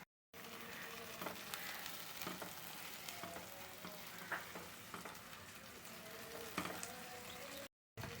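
Ginger garlic paste frying in a pan of oil for paneer curry, a steady continuous sizzle with occasional stirring scrapes and pops, close up, with brief gaps of silence at start and end.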